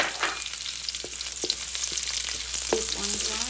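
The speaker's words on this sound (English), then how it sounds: "Keep on frying until the onion is also gonna brown." Onion and garlic frying in oil in a pan, a steady close sizzle with occasional clinks and stirring scrapes.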